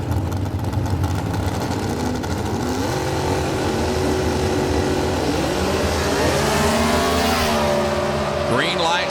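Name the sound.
drag racing cars launching at a green light start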